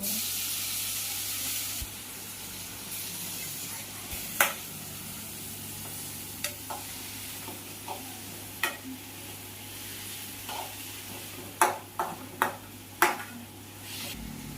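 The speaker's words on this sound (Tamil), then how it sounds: "இப்போ நம்ம தக்காளியை ஆட் பண்ணிக்கலாம்." Tomatoes hit a hot pan of onions for chicken gravy and sizzle with a steady frying hiss, broken by sharp stirring scrapes and clinks of a utensil against the pan.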